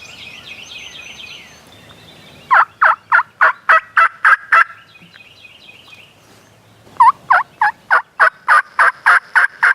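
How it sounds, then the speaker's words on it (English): Two bursts of rapid, rattling wild turkey gobbles, each a loud string of about ten pulses, with softer bird clucks and yelps between them. "At least I hear gobbling."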